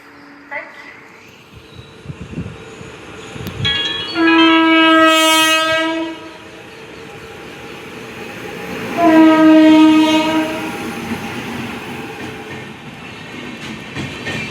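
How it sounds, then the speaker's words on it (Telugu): At a railway station the Sambalpur–Nanded superfast express sounds two long, loud horn blasts a few seconds apart over rumbling wheels and clatter, with people talking and announcements in the background. "ఇది నాందేడ్ వెళ్ళే సూపర్ ఫాస్ట్."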